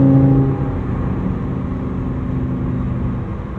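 Engine of an 840-horsepower supercharged Lamborghini Huracan STO pulls under acceleration, a loud, steady drone that starts strongest and then holds an even, sustained tone with no talking.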